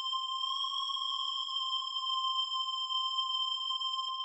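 An FM synth pitched up and shaped by an LFO holds a steady, pure electronic tone with several stacked harmonic lines, sustained and unbroken for about four seconds before a brief click at the end.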